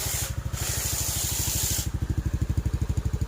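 A Yamaha Aerox scooter idles close by, its engine beating in a fast, even pulse with a hissing, rubbing layer over it that cuts out briefly.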